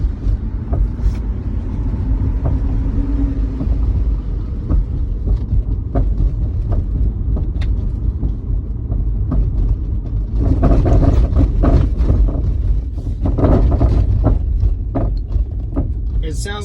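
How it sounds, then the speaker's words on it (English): A car drives over bumps with a loose clunking from underneath, irregular knocks and rattles over road rumble, with a person talking through much of it. "I don't know what that sound is, but it is loose as hell and it is shaking my car to death."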